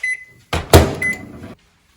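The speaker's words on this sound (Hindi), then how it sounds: "मैं इसे रखूंगी 20 सेकंड्स के लिए माइक्रोवेव में" Microwave oven handling a bowl of masala Maggi noodles topped with cheese: a short beep, then a loud clunk of the door and a brief mechanical whir that stops abruptly, followed by silence.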